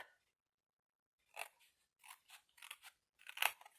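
Scissors snip through material at close range in a quiet room, a handful of short, crisp cuts clustered in quick succession after a silent opening, with no voices.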